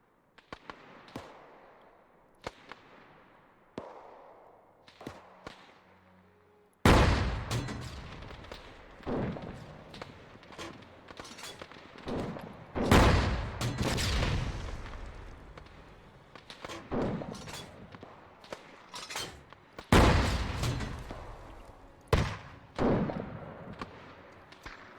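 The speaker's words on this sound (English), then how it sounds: "Let's see if this gun decides to fire at them." Booming gunfire in a battle-game scene set on Raate Road: a few faint, sparse thumps give way to a run of loud, irregular explosive blasts and cracks with rumbling tails, close and dominant.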